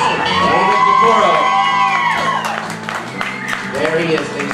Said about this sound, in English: you're applauding for a guy who surfed the internet for you